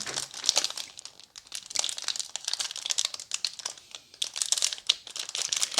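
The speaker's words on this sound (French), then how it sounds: "On va directement ouvrir les protège cartes" Plastic wrapping on a pack of Pokémon card sleeves crinkles and tears at close range, a continuous busy rustle of crackling bursts with no talk.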